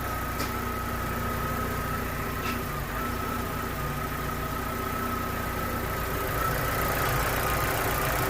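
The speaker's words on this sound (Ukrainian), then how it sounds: "Отак ось і співає наш двигунчик" A Daewoo Lanos 1.5 engine idles steadily and close, with an even low rumble and a faint whine that continue the whole time.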